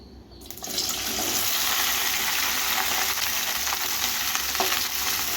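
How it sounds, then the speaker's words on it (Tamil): Okra sizzles in hot oil in a wok-style pan, a dense, steady frying crackle that swells in after a brief quiet start and continues close and loud. "வானலில் எண்ணெய் சேர்த்து வெண்டைக்காவை வதக்கணும்"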